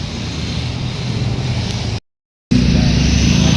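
Steady roar of highway traffic near a cafe in Dawis Norte, Carmen, loud and continuous, cutting to silence for half a second before resuming just as loud.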